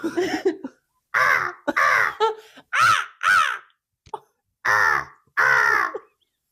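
A person imitates a crow's caw with their voice, giving about seven loud, harsh caws in irregular bursts, close up and alone with no other sound.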